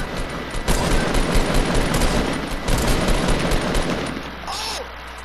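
Sustained rapid gunfire from the Fortnite video game, a dense continuous burst running for about four seconds before tapering off, loud and close, with faint voices underneath.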